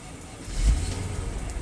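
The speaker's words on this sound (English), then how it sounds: "so I'm gonna start it again." A Mercedes with a faulty fuel gauge cranking and catching, a low engine rumble swelling up partway through and then settling into a steady close idle.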